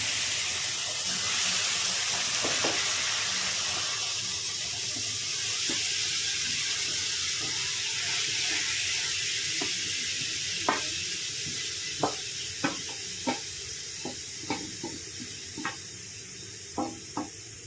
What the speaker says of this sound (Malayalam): നെയ്യ് നന്നായി ചൂടായിട്ടുണ്ട് നമുക്കിതിനകത്തേക്ക് ഗ്രേറ്റ് ചെയ്ത് വെച്ചിരിക്കുന്ന ബീറ്റ് ഇട്ട് കൊടുക്കാം